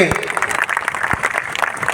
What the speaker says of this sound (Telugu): వాళ్ళందరూ గట్టిగా మనం చప్పట్లు కొట్టాలి.